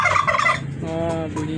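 A domestic turkey on a farm gobbles close by, a loud burst of rapid warbling notes followed by a fainter, drawn-out trailing call.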